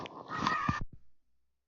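A pet dog gives one short, harsh, throaty vocal sound, somewhere between a bark and a grunt, fairly close, then falls silent.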